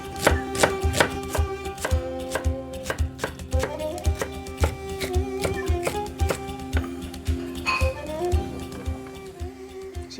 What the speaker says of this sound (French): Plus l'herbe elle est forte, là même d'ici je la sens, et plus il faut la couper fin